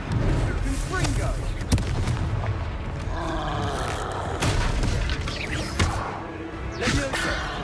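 Confringo fire spell cast in the Hogwarts Legacy video game, a rushing whoosh into a booming explosion amid dense combat noise, with voices calling out over sustained battle effects.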